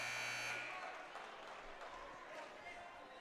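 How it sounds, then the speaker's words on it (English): A wrestling tournament timing buzzer sounds loudly for about half a second to end the first period, followed by a lingering crowd murmur and light applause in the gym. "Buzzer sounds."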